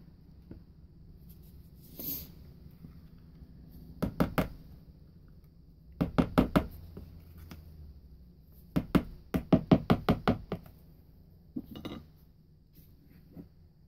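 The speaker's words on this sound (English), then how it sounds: "let me scrape down the sides here" A utensil scrapes down the sides of a pot in short bursts of quick metallic knocks and clinks, loud and close, with brief pauses between clusters.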